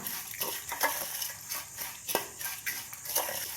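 Turmeric powder is stirred into a flattened rice mixture for a spicy South Indian garlic Diwali mixture, producing repeated dry scraping and rustling strokes at close range with no talking.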